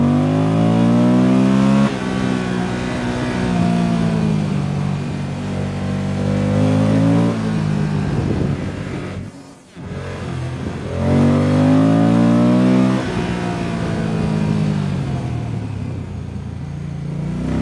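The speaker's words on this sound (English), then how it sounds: "make you feel a little bit of driving just with the noise of the engine" A loud Moto Guzzi Stelvio V-twin motorcycle engine revs up and down repeatedly, rising and falling in pitch, with a brief drop in sound midway before climbing again.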